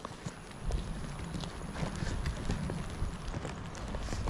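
A horse being ridden out to a distant area, its hooves clip-clopping in a steady stream of soft thuds under constant outdoor rustle and wind, fairly faint and close.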